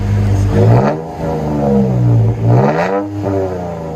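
A Toyota Tacoma pickup's 3.5L V6 engine with a Borla exhaust revs up and down twice, a smooth, deep exhaust note rising and falling without rasp, close and loud.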